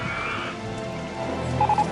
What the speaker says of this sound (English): It's not gonna be a lot of rain, but we have rain.